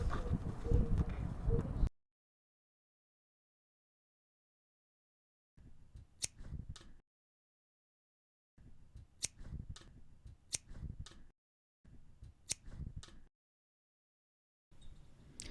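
Scissors snip through thin plastic sheets in short bursts of crisp, sharp cuts, separated by stretches of silence, close and fairly quiet.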